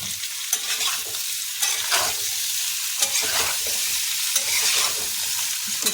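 Potatoes fry in hot oil in a pan with salt for dum aloo, a steady sizzle with repeated scraping stirs of a spoon against the pan, close and continuous with no talk.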